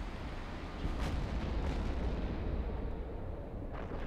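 Missile volleys fire in the space game EVE Online as a dense, continuous rumbling roar with repeated booming bursts, loud and steady throughout with no talk.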